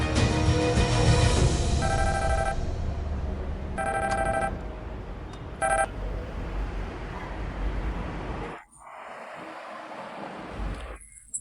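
A telephone rings in repeated short bursts indoors, moderately loud, over a low background hum, then the ringing stops and a quieter room tone follows.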